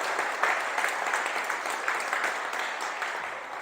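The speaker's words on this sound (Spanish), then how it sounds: "Dale un aplauso fuerte a Dios." A church congregation claps loudly after a sermon prompt, a sustained even wash of many hands with a few sharper peaks and no speech.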